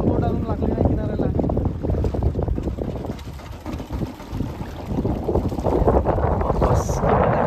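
Boat in the Konkan coast waters nearing the shore, with steady wind and water noise rushing continuously throughout, and voices talking over it.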